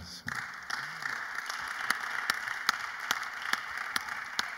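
Congregation applauding the panel during a Bible study gathering: steady dense clapping fills the whole stretch at moderate level, with sharper individual claps popping out regularly over the wash.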